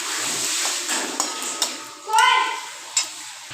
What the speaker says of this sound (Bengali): এর মধ্যে ওই ভাজা রাখা পটলগুলো দিয়ে দিতে হবে। দিয়ে চলো নাড়িয়ে দিই।